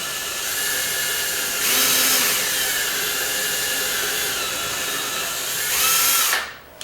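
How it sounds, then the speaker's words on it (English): A power drill drives a bit at a slight angle into a door frame toward a 2x4 behind it, a steady loud motor whine lasting several seconds, rising in pitch twice before cutting off abruptly. "I'm just gonna take a drill bit in at a slight angle."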